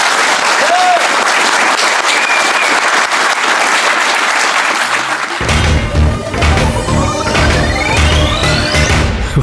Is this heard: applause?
yes